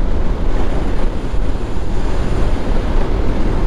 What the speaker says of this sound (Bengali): ঠান্ডা ঠান্ডা একটা বাতাস আসতেছে